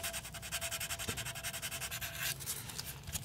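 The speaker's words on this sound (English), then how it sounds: "I'm gonna start with some 400 grit sandpaper" Plastic on a squirt gun being repainted is rubbed with 400 grit sandpaper in quick, even back-and-forth strokes, a soft, close, rhythmic scratching with no talking.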